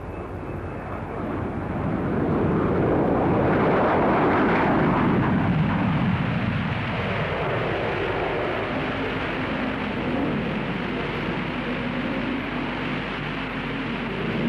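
A British jet aircraft taking off, a deep roaring engine rush that swells over the first few seconds and holds loud and sustained, gradually shifting as it moves away.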